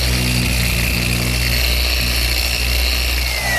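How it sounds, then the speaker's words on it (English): A power sander runs loud and continuous, rounding the corners of walnut table leaves, holding a steady motor whine with no pauses and no voices. "just using a sander"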